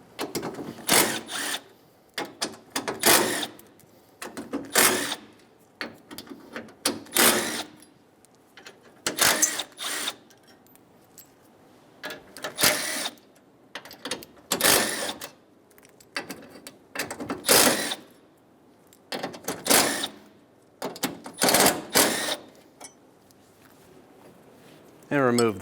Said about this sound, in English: Using a 10mm socket, we're going to remove all of the bolts out of the brackets.